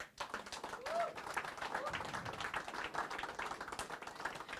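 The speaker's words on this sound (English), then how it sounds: "Round of applause." Round of applause for cricket legend Brian Lara at an office inauguration: a moderate crowd claps in a quick, scattered patter, with a few murmured voices mixed in before the clapping thins toward the end.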